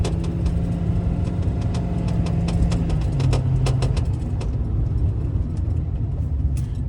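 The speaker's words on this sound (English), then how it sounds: "Shifts through the gears nicely, runs nice and straight down the road, plenty of power." A 2015 Ford F550 work truck with a 6.7 Powerstroke diesel and six-speed automatic drives down the road, its steady engine drone loud and continuous, with one gear shift dropping the pitch midway and no talk.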